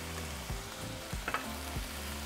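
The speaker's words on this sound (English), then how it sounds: "Now we're going to fry them for 3 minutes." Ingredients for Mexican stuffed bell peppers fry in a pan with a steady close sizzle, broken by a few soft knocks and stirring scrapes; no voices.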